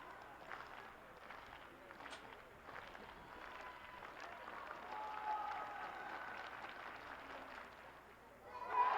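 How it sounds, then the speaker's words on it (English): Crowd at a track and field championship high jump clapping along for a jumper, a steady mass of claps and crowd noise building toward the end, with a voice talking over it. "Eli getting the clap going."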